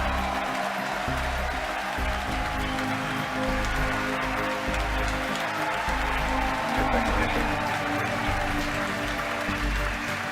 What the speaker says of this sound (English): Again, over the cheering